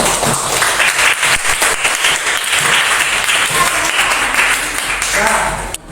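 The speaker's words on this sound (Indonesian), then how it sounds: "Kita kasih tepuk tangan untuk kita semua" Classroom applause from elementary school pupils and their teacher, a dense, loud wash of many hands clapping steadily for about six seconds before cutting off, with no talk over it.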